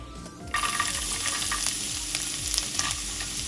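Chopped ginger and garlic sizzle steadily in hot oil for chilli chicken, a loud continuous frying hiss that starts abruptly after a short quiet moment, with spoon stirring scrapes and no voices.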